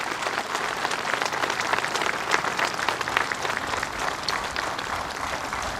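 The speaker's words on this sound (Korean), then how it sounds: "수상자들에게 다시 한번 축하의 박수를 보내주시기 바랍니다." A large crowd at the 65th Armed Forces Day ceremony in South Korea applauds award winners, producing a dense, even, rain-like roar of clapping that holds steady and loud for several seconds without speech.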